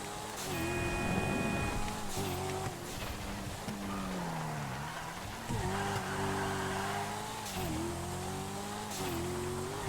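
A Dinka Jester in GTA V accelerating hard off a corner on low-grip tires, its engine revving loudly in rising and falling pitch sweeps as it shifts, with squealing tires and nothing else underneath.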